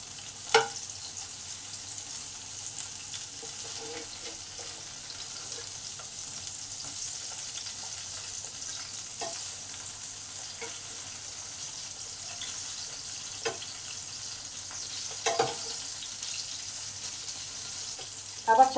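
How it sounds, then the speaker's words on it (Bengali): Eggplant pieces fry lightly in oil in a pan, giving a soft, steady, quiet sizzle with occasional faint clicks and taps of a utensil throughout. "বেগুনগুলোকে আবার উল্টিয়ে দেবো"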